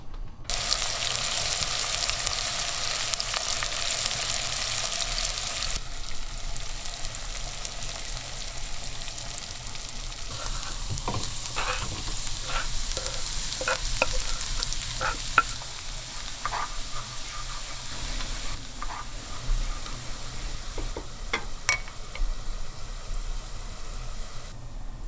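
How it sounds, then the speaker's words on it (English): Onion, garlic and dry mint sizzle while they sauté in a pan, a steady hissing fry close up, broken by occasional scrapes and clicks of stirring, with no one speaking. "I'm going to saute the onion, garlic, and"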